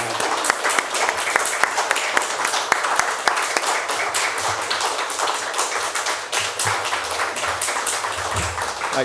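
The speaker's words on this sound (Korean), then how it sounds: "우리 환영의 박수로 모셔드리도록 하겠습니다" A crowd at a Friday night church prayer service claps steadily and warmly, a sustained round of applause from many hands filling the room at moderate volume.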